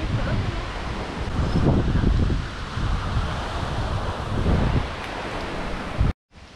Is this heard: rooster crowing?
no